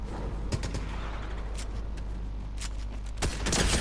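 Bursts of Fortnite gunfire crackle over a steady rumbling background, with sharp shots scattered throughout and a louder flurry near the end.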